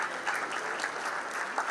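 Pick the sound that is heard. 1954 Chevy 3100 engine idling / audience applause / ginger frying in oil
audience applause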